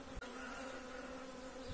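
Honey bees buzzing around a swarming hive, a steady dense hum of many wings, fairly faint and continuous, with one brief knock near the start.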